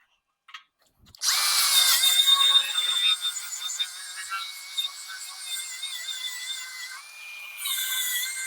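A power tool cuts into a corroded vehicle frame ahead of a frame saver install, one long loud high-pitched grinding run that starts abruptly after a short tap and keeps going with small shifts in pitch, then surges again near the end.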